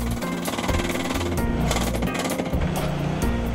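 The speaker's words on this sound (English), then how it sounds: "Continue driving the Truline sheet until it's even with the previous sheet." A Truline seawall sheet is driven into the ground with loud, rapid, continuous mechanical pounding. The hammering runs steadily with only brief dips in intensity.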